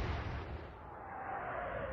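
Warship guns firing in the naval video game Atlantic Fleet during the Battle of the River Plate, a deep, muffled boom that rolls on as a low rumble for the whole stretch, fairly quiet.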